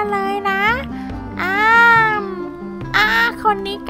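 A cat meowing in the Roblox game Jurassic Park Tycoon, several loud, drawn-out whining meows close up, one long rising-and-falling call in the middle, over a low background tone.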